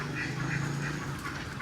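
An American Pekin duck quacks in a park animal enclosure, a fairly close, steady run of nasal calls over a low outdoor hum.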